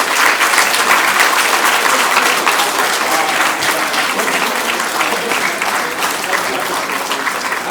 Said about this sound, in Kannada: ದಂಪತಿಗಳಿಗೂ ಬರಲಿ ಚಪ್ಪಾಳೆ